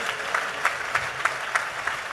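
A church congregation at a worship service claps hands in a steady rhythm, about three claps per second, fairly faint and distant over a background murmur.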